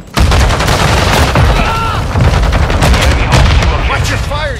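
Incoming support strike in Call of Duty: Modern Warfare II, loud dense gunfire and booming explosions pounding continuously, with shouting voices mixed in.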